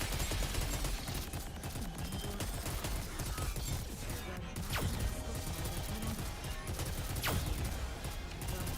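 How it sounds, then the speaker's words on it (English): Rapid bursts of assault-rifle fire from 2B's gun in the Nikke shooter game, loud and dense throughout, layered with impact crashes and game effects. "I love the sound effect from 2B's gun."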